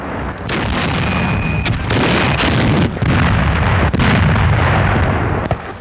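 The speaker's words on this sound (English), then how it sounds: "The enemy tank attacks are fought off with great success by self-propelled guns." German self-propelled guns firing at enemy tanks, heard as loud, dense artillery booms and blasts in a continuous battle din, with several sharp reports standing out.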